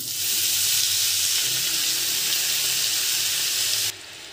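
Mustard greens dropped into hot mustard oil with fried garlic, dried red chilli and black cumin give a loud, steady, close-up sizzle that stays even throughout, then drops suddenly near the end, with no talking.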